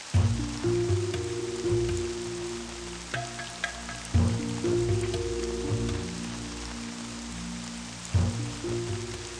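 Heavy rain falls on a city street flooded like a river, a dense steady hiss of drops with scattered louder splashes and patters, mixed with some low tonal background sounds.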